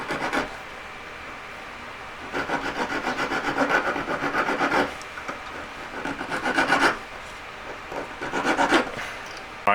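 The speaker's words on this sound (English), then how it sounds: "I'm just going to file it up a bit jagged." A metal leaf ring is filed to a jagged edge, producing repeated rhythmic rasping strokes in several close, loud bursts separated by short pauses, with no talking.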